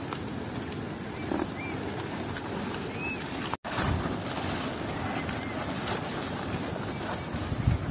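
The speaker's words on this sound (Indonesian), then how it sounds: "Angin kencang." Strong wind blows hard across the microphone near a tent by the water, a constant loud roaring buffet with gusty surges, briefly cutting out once before resuming.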